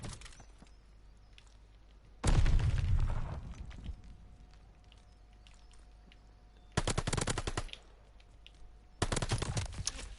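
World War II shooter game gunfire: a loud burst of rapid automatic fire with a heavy boom, then two more close machine-gun bursts separated by quieter stretches of ambient game sound.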